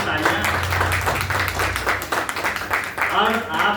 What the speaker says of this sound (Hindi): महेंद्र भेषम जी के लिए एक बार अच्छे से तालियां